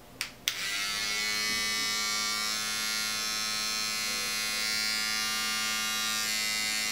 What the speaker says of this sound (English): This thing is loud, okay? It's so loud for such a tiny little thing.